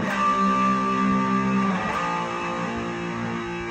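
Electric guitar lick from a song played in a lesson, a short run of picked notes ringing out and fading, moderately loud with no talking.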